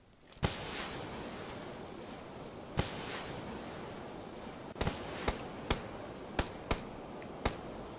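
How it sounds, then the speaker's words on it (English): Video game gunfire in a battle royale match: one sharp report, a second a couple of seconds later, then a scattered run of distant cracks over a low ambient hiss. "But I do hear gunshots."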